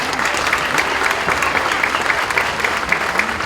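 Middle school winter concert audience claps during a break between performances, loud, dense and steady applause from a packed room.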